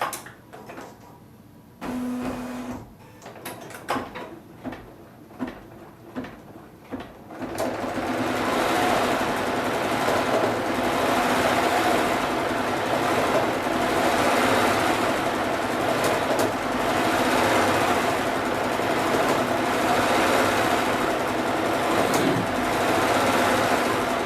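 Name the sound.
Bernina B990 embroidery machine stitching rag doll design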